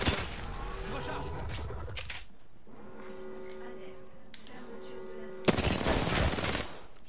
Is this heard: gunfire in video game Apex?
yes